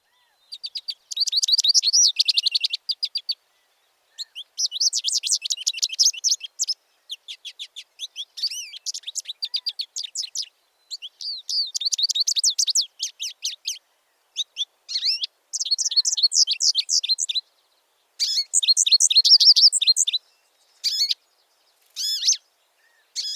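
Wild birds sing high, rapid chirping song phrases in repeated bursts separated by brief silences, clear and close against a quiet background.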